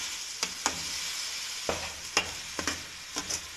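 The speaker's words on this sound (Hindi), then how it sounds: "और साथ ही ये अपने मसाले भी इसमें ऐड कर देंगे और इसे अच्छे से भून लेंगे।" Spices frying with chicken, peas and mixed vegetables in a pan, a steady soft sizzle broken by several sharp scraping stirs spaced a second or so apart, close up with no talking.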